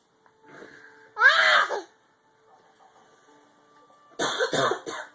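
A child imitates a sneeze with a couple of short, breathy, exaggerated vocal bursts separated by quiet pauses, close and clear.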